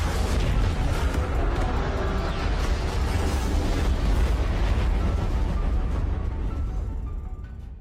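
A loud, rumbling blast roars and crackles for several seconds before slowly fading away.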